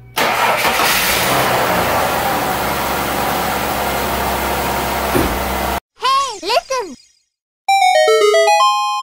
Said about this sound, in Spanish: vamos a proceder a darle marcha al motor